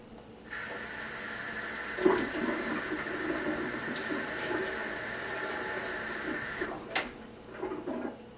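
Tap water runs steadily into a sink for about six seconds as a close, bright hiss, with a few soft knocks, then stops and leaves faint handling noises.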